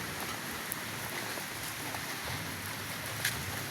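Steady rain falls around a parked Rusi motorcycle, a dense even hiss of drops with a few brief taps on a surface, close and continuous, with no voices.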